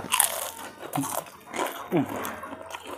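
A crunchy snack bitten and chewed up close, several crisp crunches in quick succession over about three seconds, with murmuring voices mixed in.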